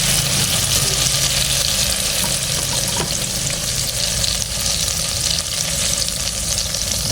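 Loud, continuous sizzling of food frying in hot oil, a dense crackling hiss close by with occasional stirring scrapes.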